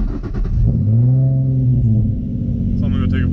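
A Nissan 350Z sports car engine while driving, a loud close rumble with a rising rev that falls away into steady cruising, with a short burst of talk near the end.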